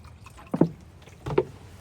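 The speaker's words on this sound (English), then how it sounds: "I'm gonna put a little bit of water in here." Water poured into a Jetboil pot outdoors, two short splashing pours about three quarters of a second apart, fairly quiet.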